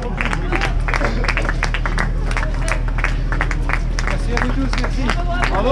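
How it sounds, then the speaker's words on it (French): A crowd at a running race finish in Alençon-Médavy applauds finisher Estelle Ringuenet with steady, dense clapping under a loud announcer's voice, with a low constant hum underneath throughout. "vous avez les applaudissements bien mérités"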